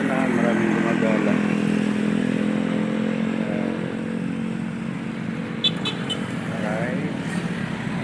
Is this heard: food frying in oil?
no